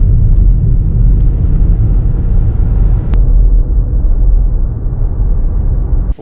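A car driving along a road toward a pond in Florida at sunrise, a continuous loud in-cabin rumble of engine and road noise with a single sharp click midway and a knock at the end.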